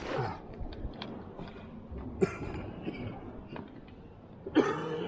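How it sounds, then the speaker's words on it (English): A few rough coughs, one sharp burst near the middle and another toward the end, heard close by over faint outdoor background noise while cliff fishing in Jamaica. "I still got that nasty cough, bro."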